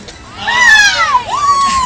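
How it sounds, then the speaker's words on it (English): High school students lead schoolchildren in a loud cheer at an elementary school Red Ribbon event, a sustained crowd of young voices rising in pitch and then swelling again, shouting together for nearly two seconds. "they're going to do a quick cheer for you"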